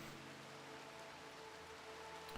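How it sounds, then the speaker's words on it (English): Steady rain falls in a video game at night, a faint, even hiss of drops with no talking over it. "No, it's raining."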